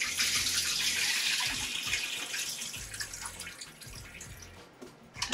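Tap water runs into a kitchen sink as oxtails are rinsed, a steady hissing stream with splashing and handling knocks, fading slightly before a few louder sloshes at the end.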